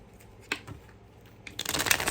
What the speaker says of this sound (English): shuffle these cards right because it's a new deck and I never used it before